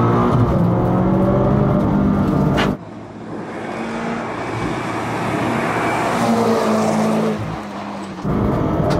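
A tuned car engine with auto rev-matching roars loudly on a mountain pass, dropping off abruptly partway through, then building steadily before surging back to full drone near the end.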